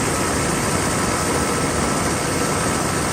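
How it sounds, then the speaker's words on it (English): A Mercedes S600 engine runs steadily at idle, a broad, constant rumble held close and loud with no voices over it. "The engine runs really good."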